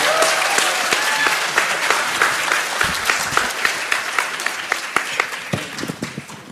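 A crowd applauds warmly for PD Choi Seung-ho, Newstapa anchor, at a Democratic Party Seoul chapter event on public broadcasting, with dense sustained clapping that thins into scattered claps toward the end.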